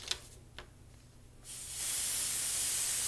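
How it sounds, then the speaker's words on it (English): Airbrush spraying permanent ink onto paper: a couple of faint clicks, then a steady bright hiss swelling up and holding loud and close to the end, with no voices. "you want to just kind of test it out on the paper first to see exactly where you're going to be spraying"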